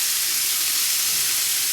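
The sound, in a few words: Wagyu beef bacon sizzling in a hot pan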